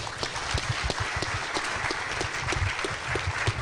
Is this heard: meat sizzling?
no